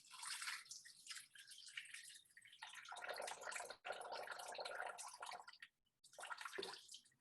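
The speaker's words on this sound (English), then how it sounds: "So I will add 9 ounces of water" Water pours into a Thermomix bowl for a ginger syrup, a steady splashing gush with gurgling that briefly cuts off, then drops to a dribble before resuming in a short final burst, close and moderately quiet.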